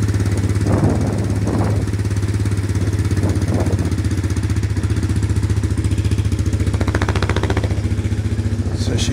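A farm bike with a centrifugal clutch idles while warming up, its engine thudding in a steady rapid beat, loud and close throughout, with a few brief clanks and rattles over the running.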